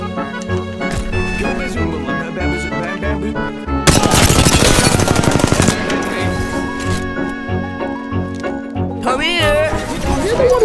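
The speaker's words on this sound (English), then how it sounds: "Oh no, he's shooting at me." Gunfire in the video game Apex Legends: a dense, rapid burst of automatic shots roughly midway, then a shorter burst near the end, loud over steady game music and sound effects.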